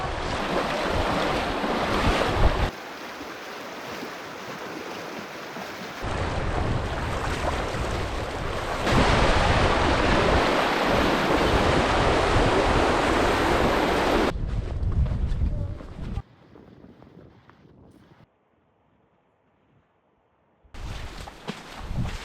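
Rushing river water and wind during a river crossing in Alaska, loud and continuous with heavy wind buffeting on the microphone, then breaking into shorter bursts and near silence.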